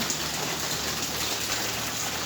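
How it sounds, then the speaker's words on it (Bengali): Steady rain falls outside a house during a storm, a dense, even hiss of drops on surfaces that continues unbroken throughout with no voices. "এদিকে বৃষ্টির পানি পড়তেছে"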